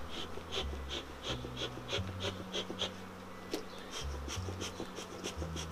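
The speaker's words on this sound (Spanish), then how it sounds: "Ya se ven abejas, buena señal siempre que haya mansedumbre de abejas." Honeybees buzz around an opened hive box during a beekeeping inspection, a close, continuous droning hum with shifting low tones as individual bees fly near, with no talking.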